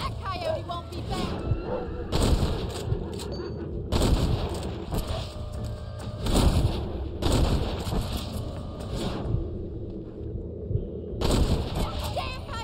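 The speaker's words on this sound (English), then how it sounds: "Good shooting, Mr. Marston" Repeated rifle and pistol shots at coyotes in the Western video game Red Dead Redemption, loud bursts of gunfire in several volleys with game audio and occasional voices between them.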